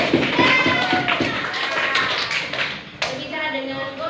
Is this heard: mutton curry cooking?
no